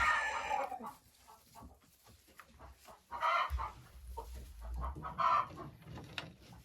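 Hens cluck and mutter inside a henhouse, one sitting on the nest laying, with soft scratching and rustling, close by and fairly quiet, a few louder bursts of clucking standing out.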